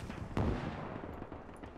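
A single heavy mortar or artillery blast in a World War II battle game, a sharp close crack that rolls off into a fading rumble over steady low background noise.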